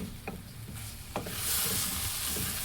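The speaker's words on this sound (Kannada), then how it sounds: "1-2 ನಿಮಿಷ ಮೀಡಿಯಮ್ ಫ್ಲೇಮಲ್ಲಿಟ್ಟು ಈ ಥರ ಫ್ರೈ ಮಾಡ್ಕೊಳ್ಳೋಣ" Masala for a raw jackfruit curry frying in a pan over a medium flame, with scraping stirs and a soft sizzle that swells louder midway, alone without talk.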